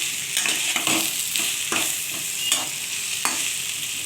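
Eggplant and potato sprinkled with salt fry in a wok with a steady bright sizzle, while a spatula stirs in periodic scraping strokes about every second, close and alone with no talking.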